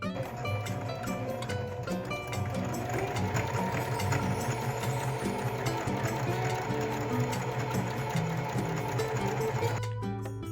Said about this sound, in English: And then I will start sewing after that.